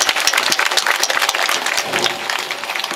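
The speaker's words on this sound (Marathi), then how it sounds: "आमचे सर्व कलाकार यांच्यासाठी सर्वांनी एकदा जोरदार टाळ्या वाजवा" Loud, energetic clapping from an audience honouring performers at a kirtan during a Mahashivratri week gathering in Gunjalwadi, Sangamner, with many sharp overlapping claps filling the whole moment.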